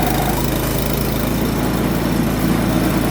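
A wood chipper's small engine runs steadily after a pull start, a loud, even idle with a low throbbing pulse and mechanical vibration throughout, no voices.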